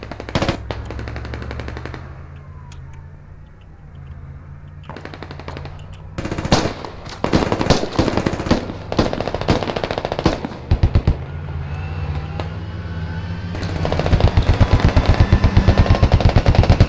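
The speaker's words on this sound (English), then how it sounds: "Very good shooting by the Abram." Bursts of heavy gunfire from an M1 Abrams tank in the military video game Squad, loud sharp reports in rapid clusters over a low engine rumble, growing denser and more continuous toward the end.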